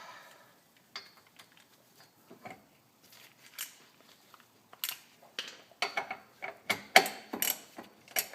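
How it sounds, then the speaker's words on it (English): A ratchet breaks loose a tie rod locking sleeve on a 2003-2007 Honda Accord: sparse handling clicks at first, then louder, sharper runs of ratcheting clicks in short bursts close by. "I just used my ratchet and I just spun it left and broke it loose"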